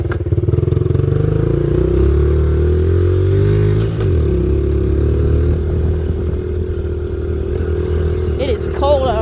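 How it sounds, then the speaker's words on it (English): A pit bike dirt bike engine drones loud and close while riding on a cold trail, holding a steady mid-pitched note with a slight dip in revs near the middle and a brief higher whine at the end. "on a dirt bike going about 30, it is not fun"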